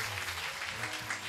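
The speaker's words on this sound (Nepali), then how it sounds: "हामी पवित्र आत्मालाई हामी एक ताली बजाएर हामी उहाँलाई स्वागत गर्नेछौँ" A church congregation clapping together during a Nepali worship service, a continuous, even wash of applause at moderate volume with no voices over it.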